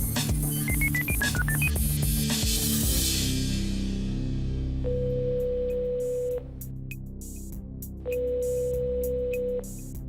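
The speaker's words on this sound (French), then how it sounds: "La régie fait le numéro." A TV studio control room dials a telephone number: a rapid run of keypad DTMF tones, followed by two long, steady ringback tones separated by a pause. No one speaks.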